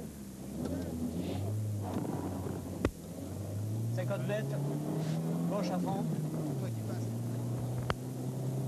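Touring car on a special stage of the 1985 Monte Carlo Rally, its engine note rising and falling as it accelerates, with a co-driver calling pace notes over the steady engine and wind noise inside the car.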